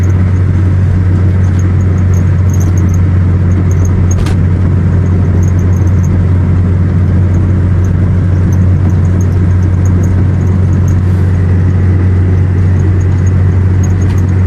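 Turbocharged Mazda MX5 engine while driving, a loud, steady low drone and road rumble from inside the car with no pauses or gear changes evident.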